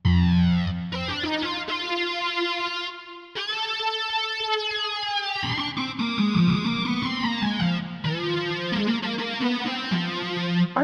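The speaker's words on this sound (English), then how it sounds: "Do we want like a little flanger on there maybe?" A sustained Casio CZ-101 synthesizer chord with a sweeping, whooshing flanger effect, shifting pitch in a few held phrases with no talking.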